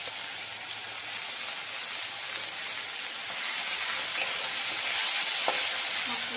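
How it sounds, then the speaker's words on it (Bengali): Fish frying in a pan, a constant loud hissing sizzle close by that swells slightly partway through, with no voices. "তারপরে ভেজে নেবো।"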